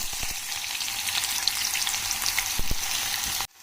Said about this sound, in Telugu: ఇప్పుడు రెడ్ మిర్చి పౌడర్ వేసి చేసే చికెన్కి ఆయిల్ అయితే వేసుకుందాము. అయితే వేడెక్కింది. ఇంకా ఆనియన్ అయితే వేసేసుకున్నాము.